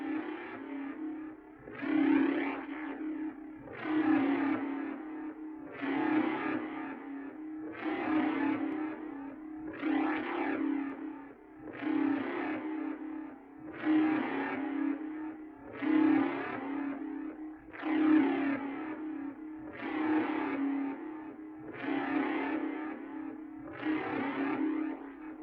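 Cinematic sci-fi alarm effect run through flanger and modulation delay, repeating as a steady pulsing wail about every two seconds, with a swirling, echoing tone held at an even, fairly loud level throughout.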